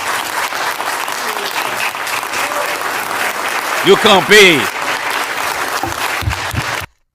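A crowd claps in sustained, even applause that fills the space, while a voice breaks in with a short shout partway through before the clapping cuts off.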